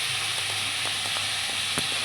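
Capsicum and gram flour bhaji cooks in a pan over lowered gas, giving a steady close sizzle and hiss with faint intermittent ticks and pops.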